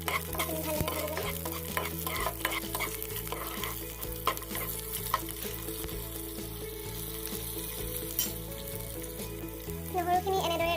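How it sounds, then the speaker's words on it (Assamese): Garlic and green chillies fry in a pan with a loud, dense, crackling sizzle, while frequent stirring scrapes and clinks run through it, close up and with no talking. "এইখিনি ভালদৰে ভাজি ল'ম।"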